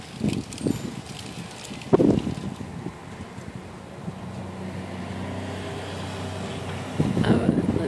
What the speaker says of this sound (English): And it's windy outside.